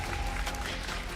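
A crowd at a Valorant esports watch party applauds and cheers in a dense, steady wash of clapping that lasts about a second.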